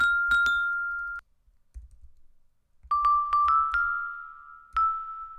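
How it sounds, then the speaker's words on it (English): Command K pressed on a computer keyboard triggers bright bell-like synth tones, two bursts of crisp clicks with ringing notes, a pause, then several more clicks and sustained chimes, close and clear. "So I'm going to test out the sounds hitting Command K on my computer keyboard."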